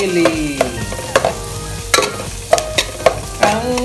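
Ground meat cooking with onion and garlic in a pan, with a soft sizzle under a series of sharp, close scraping and clinking stirring strokes at irregular intervals.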